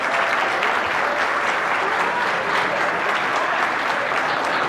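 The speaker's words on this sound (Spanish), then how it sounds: "Un fuerte aplauso para Eduardo" A comedy bar crowd claps steadily and loudly for a birthday guest, a dense even wash of applause that holds throughout without speech.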